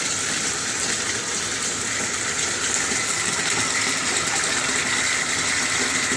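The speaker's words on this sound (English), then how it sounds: "Turn the water on, doesn't matter what temperature." Water gushing steadily from a tap into a bucket holding black diamond blasting sand used as aquarium sand, a constant bright splashing rush with no talking.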